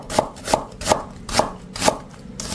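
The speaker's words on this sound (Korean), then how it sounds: "양파는 하나 도톰하게 채를 썰어요." A knife cuts an onion into thick strips on a cutting board during kimchi prep, five crisp evenly spaced chops close by, with no voices.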